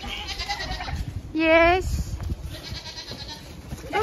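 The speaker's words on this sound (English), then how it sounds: "Little baby goats." A baby goat gives one loud, wavering bleat close by on a homestead after a hard freeze, among softer farm sounds, with a person speaking briefly around it.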